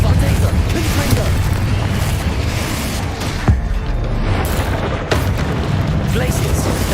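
Spell explosions from Hogwarts Legacy boom loudly over a dense, constant wall of combat noise, with a couple of sharper blasts standing out and a voice calling out in between.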